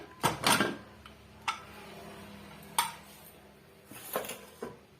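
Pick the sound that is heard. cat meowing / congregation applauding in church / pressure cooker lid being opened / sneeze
pressure cooker lid being opened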